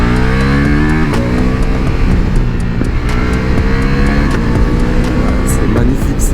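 Ducati Multistrada V4S Pikes Peak engine while riding, a loud, continuous drone rising in pitch through the gears, with brief shift breaks and wind rush throughout.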